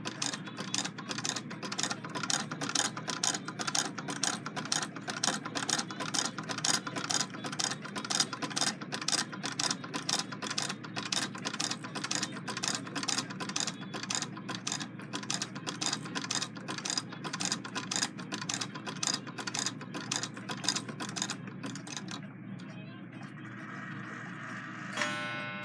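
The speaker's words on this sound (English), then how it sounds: "operating the hand crank here, as you can see, the machine is going to stitch the fabric" Singer 66 lock-stitch sewing machine driven by a hand crank, stitching fabric: a steady, rapid train of close mechanical ticks and clacks that keeps an even rhythm for over twenty seconds before slowing and fading near the end.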